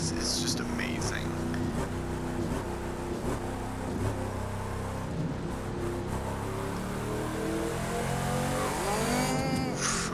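Engine of a 1971 Camaro Z28 in The Crew 2 racing game, a steady loud drone with rising and falling revs through the whole stretch, with a sweeping pitch change near the end and talk at times over it.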